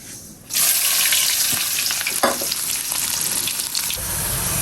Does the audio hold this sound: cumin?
yes